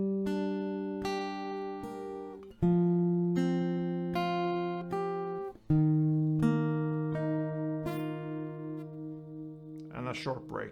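Acoustic guitar slowly picking a melody, single plucked notes ringing out one at a time with long sustain, fairly quiet and close, no talking.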